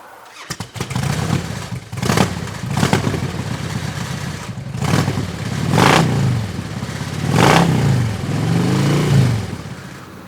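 A motorcycle engine starts and is revved repeatedly, several sharp rising bursts spaced a second or two apart over a rumbling idle, close and loud.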